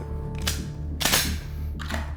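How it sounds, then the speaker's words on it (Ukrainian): Three sharp gunshots crack at uneven intervals at shooting practice over a low steady rumble, close and loud. "І ми будемо стріляти"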